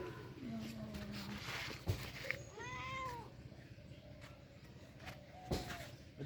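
A cat meows twice nearby, one drawn-out call and a shorter one, over faint room noise with scattered knocks and shuffling.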